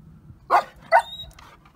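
A Rottweiler barks twice in quick succession at other dogs, sharp and close, followed by a brief whine, with a quiet background between barks.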